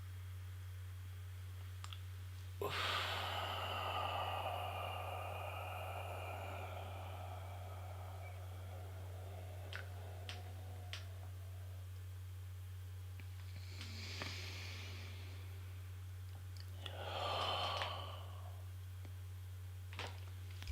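A slow, steady exhale during a calm breathing exercise, soft and close, rising broadly then fading over several seconds, with a second shorter breath later against a quiet room with a low steady hum.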